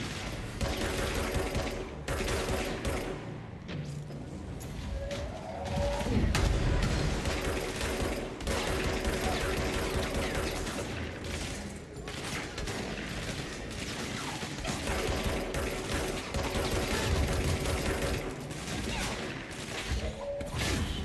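Enemy gunfire in the video game Control, with dense bursts of automatic shots and crashing impacts running continuously under a busy game mix.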